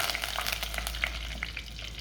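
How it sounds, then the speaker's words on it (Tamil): Green masala with curry leaves frying in a pan for a fish curry, a dense, steady crackling sizzle with small pops, fairly quiet and continuous, with no voices. "வறுபடட்டும் நல்லா சிவக்க வறுப்பட்டுட்டு"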